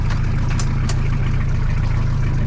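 A car engine idles steadily just after a single-crank cold start, a continuous low rumble close by with a couple of brief higher-pitched bursts near the beginning.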